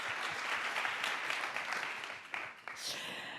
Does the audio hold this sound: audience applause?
yes